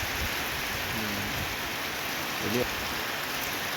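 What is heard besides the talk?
rain falling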